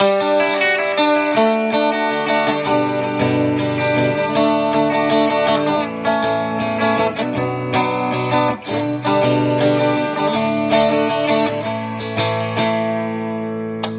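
Clean Gretsch Electromatic G5420T electric guitar on both pickups, playing chords and melodic lines with a touch of amp reverb, steady and fairly loud, no voices.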